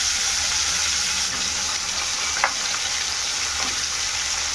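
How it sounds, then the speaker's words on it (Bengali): Potatoes fry in oil in a pan, a steady close sizzle and hiss with a few faint clicks of stirring, no voices. "এখন আলুগুলো ভেজে নেবো ভালো করে।"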